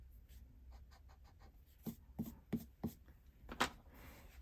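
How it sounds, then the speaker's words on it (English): An eraser rubs pencil marks off a handmade card in a run of short scrubbing strokes, faint at first, then a few firmer rhythmic rubs close by, with no voice. "let's erase our pencil marks"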